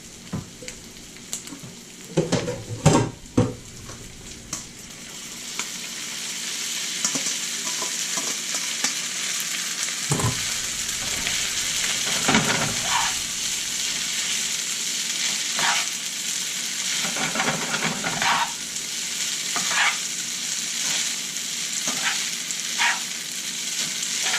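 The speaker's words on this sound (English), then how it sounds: "So we're just going to add the pasta back in." Cooked pasta goes back into a hot pan for lobster pasta with broccolini, setting off a loud continuous sizzle, with a few stirring scrapes early on and later.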